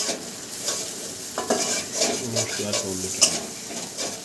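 Spice paste for a tilapia fish curry with pointed gourd being stir-fried in a pan, with scraping stirs and a soft sizzle that rises and falls in uneven bursts, close and moderately loud.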